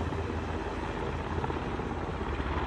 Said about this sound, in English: parts of it were installed using a helicopter